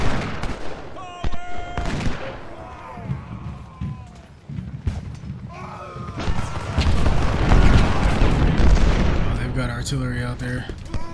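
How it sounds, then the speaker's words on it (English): Civil War artillery in Ultimate General: Civil War booms and cracks repeatedly alongside scattered rifle volleys, building into a loud, continuous battle din, with voices speaking over parts of the fire. "Artillery out there."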